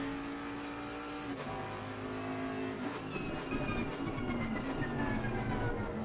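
A Ferrari GT3 race car from Assetto Corsa Competizione at Zolder, its engine note holding steady and then shifting through rising and falling tones as it works through a chicane, fairly quiet and alone.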